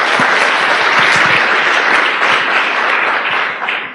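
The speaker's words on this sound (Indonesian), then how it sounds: "Aplaus buat Anda semuanya lah." Loud, steady audience applause with dense clapping throughout, fading slightly at the end.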